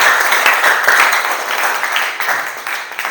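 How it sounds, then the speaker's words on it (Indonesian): A classroom claps for a student group, steady dense applause throughout with no talking over it. "Baik, tepuk tangan untuk kelompok 1."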